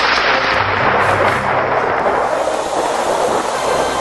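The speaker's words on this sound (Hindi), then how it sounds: "बादल गरजने लगा, अब जरूर बारिश आएगा" Low, continuous rumbling roar fills the whole stretch, steady and fairly loud, like rolling thunder with no voices present.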